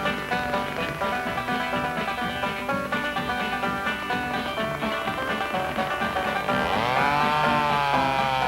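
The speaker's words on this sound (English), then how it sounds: "Whether you need a chainsaw for occasional cutting and trimming, or for a big rough job like this, a fire-scarred oak" A Model 17 chainsaw cuts through a big fire-scarred oak, its engine roaring steadily under orchestral music, then pitching up and down as the load changes near the end.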